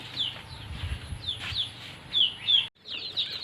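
Newly delivered chicks at a small local chicken farm peep in high, thin chirps, several overlapping calls repeating at close range with faint rustling beneath.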